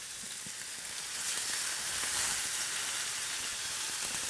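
NY strip steak searing in hot oil in a pan: a steady, loud, bright sizzle and crackle with spitting oil, constant and close, swelling slightly midway, with no talking.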